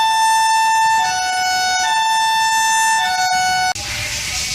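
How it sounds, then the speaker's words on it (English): Broadmoor hospital's escape siren wails loud and steady, its tone dipping slightly and rising again before cutting off abruptly near the end, with hiss left behind. "here's Broadmoor's escape siren."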